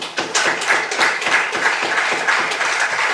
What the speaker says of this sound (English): I can see the Lord Mayor clapping